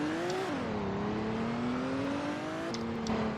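A Formula 2 race car screams through the final lap of the Japanese sprint race, its loud, steady engine note dipping in pitch then holding high and constant, with a faint second car joining near the end.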